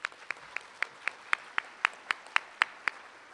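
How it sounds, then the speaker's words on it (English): Single handclaps snap at a steady, regular pace, about a dozen sharp claps close by at a 4-H horse awards ceremony, rather than the dense wash of a crowd applauding. "So let's give them a round of applause."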